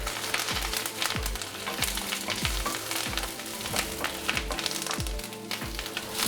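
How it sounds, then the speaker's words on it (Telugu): Curry leaves fry in hot oil in a pan, giving a steady, close sizzle with repeated low scraping strokes from stirring at a regular rhythm, with no voices. "కాబట్టి 2 లేదా 3 నిమిషాలు మనం ఫ్రై చేసుకోవాలి."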